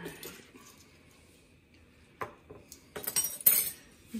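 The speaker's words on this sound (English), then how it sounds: "Give that a stir." A spoon stirs ham bone soup in a metal pot, faint scrapes building to a cluster of light clinks and taps against the side, close and quiet.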